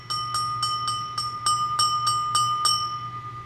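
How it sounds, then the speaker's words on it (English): A 1960s Bohemian Czech 24% lead crystal bell with basket-weave pattern, struck about ten times in a steady rhythm, each ring leaving a clear sustained high tone that hangs between strikes, close and alone. "Gorgeous bell. I mean, the tone is amazing."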